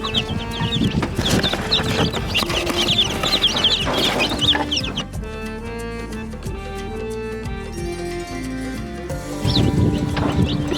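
Day-old chicks in a brooder chirp continuously in a dense, high-pitched chorus, loud and close, with the chirping thinning briefly midway before rising again.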